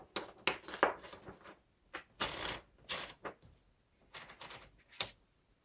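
Paper is fed into a 1962 Royal Signet portable typewriter, giving a run of close, dry mechanical clicks, rattles and brief ratcheting bursts of the platen and carriage with short pauses between, no talking.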